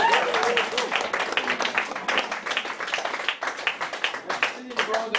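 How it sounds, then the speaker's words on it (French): Bar crowd at a poetry slam session applauds with scattered, uneven clapping, while voices talk and call out over it throughout. "Une bonne main d'applaudissements"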